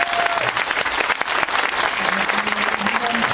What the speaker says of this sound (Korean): 표창원 선생님께 다시 한번 감사의 박수 부탁드리고요